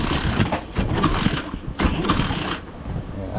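Repeated mechanical clanks and ratcheting bursts come from a pit bike engine being kick-started without firing, close and uneven, with pauses between kicks.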